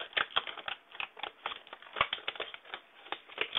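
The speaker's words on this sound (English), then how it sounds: "I'm gonna go ahead and cut it out of the package here." Plastic clamshell packaging around a Samsung SH-224BB internal DVD burner being cut open, a quick irregular run of close, sharp clicks and snips with no talking.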